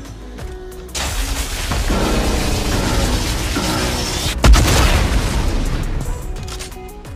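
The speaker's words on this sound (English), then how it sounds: "I think I'm gonna explode it." Video game explosion in a vending-machine-only challenge, a loud booming blast that bursts in near the start, rumbles on with crackling debris and a second heavy thump, then fades.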